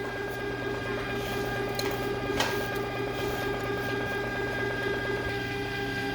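A homemade cookies-and-cream ice cream maker churning steadily, its motor drone continuous and mechanical with faint irregular clicks over about six seconds, fairly quiet with no talking.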